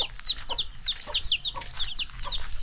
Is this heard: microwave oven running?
no